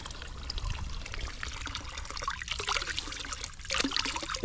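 Water from a well trickles and splashes steadily, nearby and continuous, with bubbling pours over a low rumbling background.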